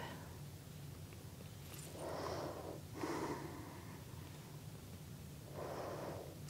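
Slow, deep breaths taken during floor yoga stretches, close and soft, with three separate airy exhales spaced a second or more apart over a faint steady background hum.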